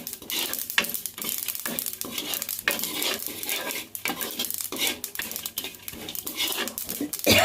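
Almonds roast in coconut oil with chili powder, stirred with repeated scraping strokes against the pan over a soft, continuous sizzle. The sound is close and uneven in rhythm, with no talking.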